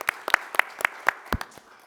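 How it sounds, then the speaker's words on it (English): A few separate claps from a small audience at a commission meeting, sparse and moderately close, tapering off after a couple of seconds. "we give them a round of applause"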